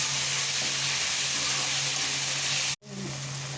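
Onion, coriander leaves, tomato and green chilli sizzle in oil in a frying pan, a steady close hiss with faint stirring scrapes that cuts off abruptly near the end and then returns.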